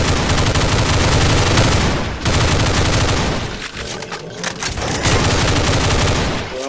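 Rapid, loud gunfire from a weapon in the first-person shooter Brutal Doom (Project Brutality mod), sustained bursts broken by two brief pauses, with no talk over it.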